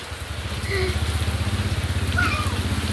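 Rain pours down steadily while a child bathes in it outdoors, a constant hiss with a low rhythmic throb underneath and a few faint high calls.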